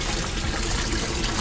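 Water poured into a container of guppy fry at a guppy farm, a short steady splashing gush, close and fairly loud, with no talk over it.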